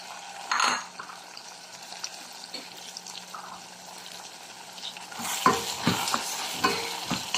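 Garlic, onion, tomato and mustard greens sautéing in a pan, a steady low sizzle with scraping stir strokes, growing louder and busier near the end as the greens go in.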